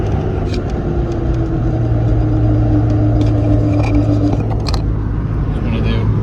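A 2002 Ford Mustang GT V8 with new ignition coils pulling at full throttle in fourth gear from low RPM, a steady loud engine drone and road rumble from inside the car, with someone speaking over it.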